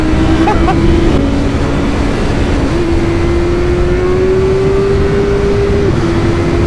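A BMW S1000R inline four-cylinder motorcycle engine drones loudly and steadily, its pitch rising slowly as it pulls through the revs, with wind noise throughout.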